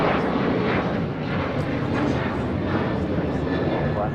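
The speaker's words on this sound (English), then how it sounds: "This is Alaska Airlines Flight 6 taking off to Washington Reagan National on a 737-800." An Alaska Airlines Boeing 737-800 takes off at Los Angeles LAX, with a continuous heavy jet roar that stays strong and even from start to finish.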